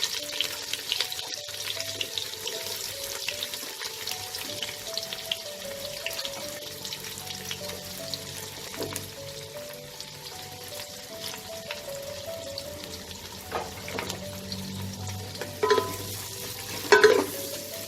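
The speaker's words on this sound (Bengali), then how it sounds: "পেঁয়াজটা হালকা ব্রাউন করে আমি ভাজবো" Four medium chopped onions sizzle in oil with garam masala for an Awadhi-style mutton yakhni pulao, while a spoon stirs and scrapes the pan; a few sharper clatters come near the end.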